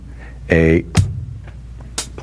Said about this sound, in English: here's my little drum machine playing